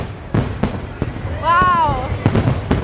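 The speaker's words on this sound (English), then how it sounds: "Oh look, fireworks! They're orange, like Halloween!" A few sharp pops and bangs of distant fireworks at a Walt Disney World Halloween party, with a brief whistling rise in the middle and crowd murmur underneath.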